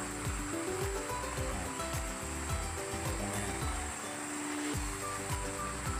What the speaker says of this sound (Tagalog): Ilog ng Sitio Tubigan.